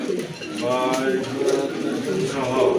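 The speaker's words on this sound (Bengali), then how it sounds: "একদম কিন্তু ফ্রেশ মার্কিংয়ের কবুতর" Pigeons coo at a market stall where birds are sold in pairs, with a close, continuous run of throaty, rolling coos and faint voices in the background.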